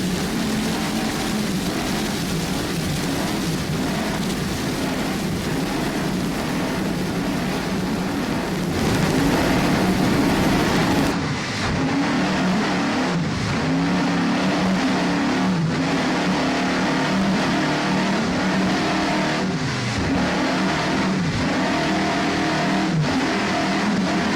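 Offshore racing powerboat engines roar loudly and steadily at the 1999 APBA World Championships in Key West, with the throttle shifting and the pitch easing and rising again partway through. No one speaks.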